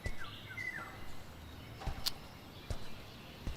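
Faint birdsong from a moving simulator video game's ambient soundscape, with a few thin chirps and short whistled calls over a low background murmur, plus scattered soft clicks.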